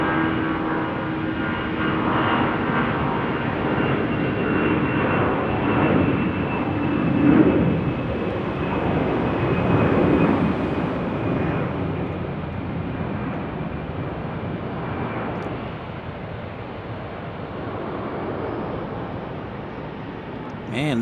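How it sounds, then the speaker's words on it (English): Airbus A319 airliner landing at Salt Lake City Airport, a steady broad jet roar sustained throughout, moderately distant, with people talking faintly underneath. "Man, that was a heavy A319."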